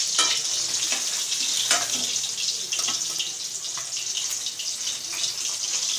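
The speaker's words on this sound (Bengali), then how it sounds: "মাছগুলো বেশ লাল করে ভাজা হয়ে গেছে" Bhola fish fry in hot oil, giving a loud, steady, close sizzle with scattered crackles and pops that continues throughout.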